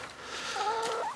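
Chickens pecking at sawdust around the base of a 12-year-old apple tree give a single soft, warbling cluck close by, against a faint outdoor background.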